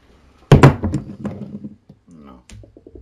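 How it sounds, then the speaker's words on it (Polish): Brown's gas (oxyhydrogen) ignited in a loud, sharp pop followed by clattering and rattling, then quieter handling noises, recorded up close. "Widzisz, jak bardzo wybuchowa jest ta substancja? Widzisz, jak gwałtowna jest to reakcja?"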